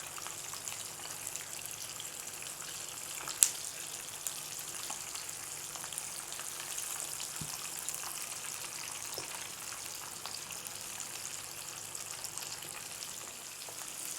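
Cheesy chicken drumsticks shallow-frying in oil, giving a steady, close, crackling sizzle that runs unbroken throughout with a few faint pops and no talking.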